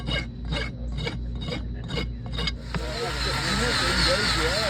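A farrier rasps the wall of a horse's hoof at a summer farrier clinic to take off burrs. Half a dozen close, rhythmic rasping strokes come first, then a steadier, louder scraping, and someone speaks over it.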